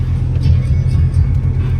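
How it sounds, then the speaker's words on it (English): A Jeep Grand Cherokee engine with its muffler cut off, a loud, close, raw rumble that swells slightly in a short rev. "we'll go ahead and give you a rev"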